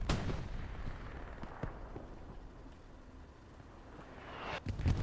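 Anti-tank gun fire in a multiplayer war video game: a sharp loud shot opens, a few scattered distant blasts follow, and another heavy report lands near the end over a steady battle rumble.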